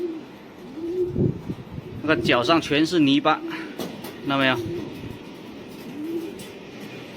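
Racing pigeons coo softly in a loft, low rounded calls recurring a few times close by, while someone speaks over them for much of the time.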